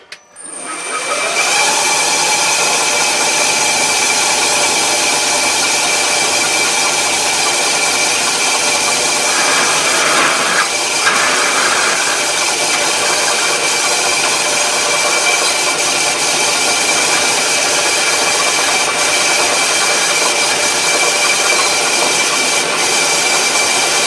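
A loud, continuous machine whine with a steady high tone runs throughout as a machine drills a hole in metal at about 800 rpm, with no talking.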